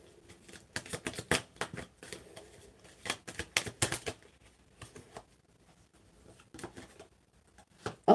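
Tarot cards are shuffled in close, quiet bursts of soft riffling and slapping, clustered in irregular flurries with short pauses between them, with no talking.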